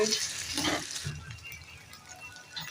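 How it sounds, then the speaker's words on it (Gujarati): Potato pieces dropped into hot oil with crackling cumin seeds give a burst of loud sizzling and frying that settles into a quieter, steady hiss. "હવે બટેકાને તેલમાં તળવા દેવાના છે."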